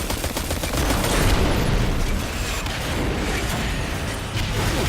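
Rapid gunfire in the video game Destiny 2 Forsaken, a dense continuous stream of close, loud shots with heavy low rumble and no talking.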